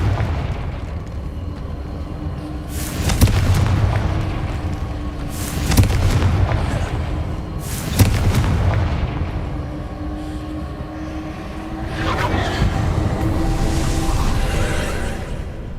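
Spell explosions from the Confringo curse in Hogwarts Legacy, three sharp booming blasts a couple of seconds apart followed by a longer rumbling burst, over a steady game background.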